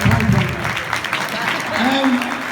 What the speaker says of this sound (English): You gotta stop clapping